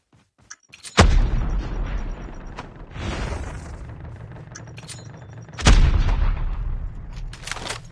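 Gunfire in the mobile shooter game Call of Duty Mobile comes as two loud, booming shots several seconds apart, with a rumbling sustained tail and lighter shots in between.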